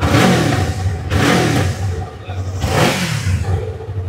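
A Yamaha R3 motorcycle engine revs up sharply three times in quick succession, each burst of throttle climbing and then falling back, loud and close with no talking.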